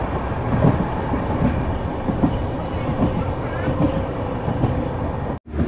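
A Humsafar Express train runs steadily along the rails with a continuous rumbling roar and faint rhythmic clatter of wheels, heard close from on board, cutting out abruptly near the end.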